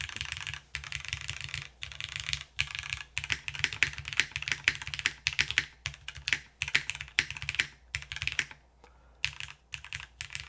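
Mechanical keyboard keys clack in quick irregular bursts with short pauses, including a deeper spacebar press, with no dampeners fitted and nobody speaking, close and crisp.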